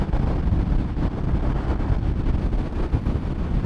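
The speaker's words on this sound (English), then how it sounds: "the wind is blowing really hard right now" Strong wind roars and buffets the microphone during a ride on an Indian Scout motorcycle, a loud, continuous low rumble with no talking over it.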